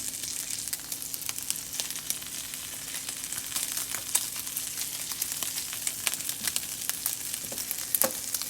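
Pancetta toasts in oil in a pan, a steady close hiss and sizzle with scattered pops and crackles throughout.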